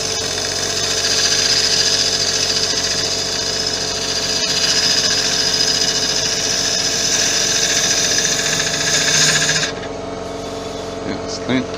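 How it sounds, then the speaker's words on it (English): A small bowl gouge is sharpened on a grinder for woodturning, a steady high whine with a continuous buzz running for about ten seconds before stopping abruptly, followed by faint shop noise. "Grab my small bowl gouge and put a new edge on it."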